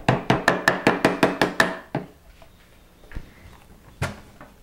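Flax seeds being chopped for raw crackers: a quick, even series of about nine crisp knife strikes on a board, close and loud, followed by a few scattered softer knocks and one last sharp hit.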